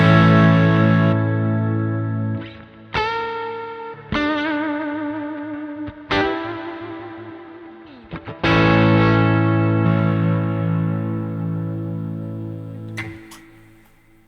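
A Beato signature electric guitar played through its P90 bridge pickup, with effects adding chorus-like shimmer and echo, strikes several sustained chords and notes that ring out and fade, loud and close with no talking.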